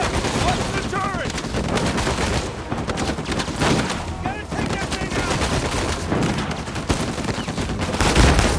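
Turret gunfire in the Uncharted 4 video game, a dense, continuous barrage of loud shots and impacts running the whole time, with game music and effects mixed in.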